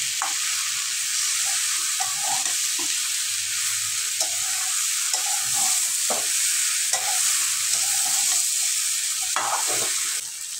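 Raw jackfruit with spices being stir-fried in a pan, a steady loud sizzle running throughout with repeated scrapes and knocks of a spatula stirring the mixture.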